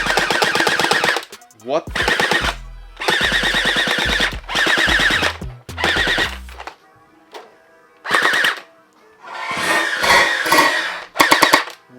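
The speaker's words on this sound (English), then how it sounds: "turning this blaster on fully automatic so we can get ammo loading into the magazine" An XShot HPG700 gel blaster fires on fully automatic in several loud close rattling bursts of rapid shots, separated by pauses, with a brief spoken word near the end.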